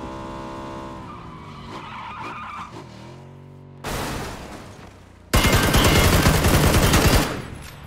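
A car in PUBG engine-droning and then skidding loudly as it flips, with harsh bursts of gunfire and crashing noise filling the last seconds, close and loud without talk.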